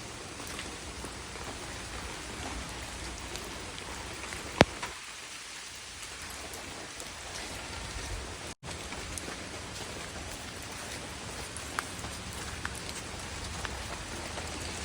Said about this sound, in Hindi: ओ नो, अब तो जोर से बारिश हो गया।